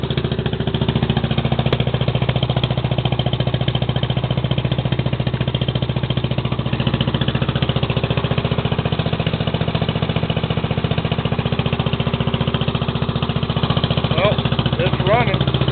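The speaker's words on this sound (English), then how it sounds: "I think it's warmed up enough to idle by itself." A car engine idles on its own after a cold start, giving a steady, loud, continuous rumble with an even mechanical beat that holds for the whole stretch.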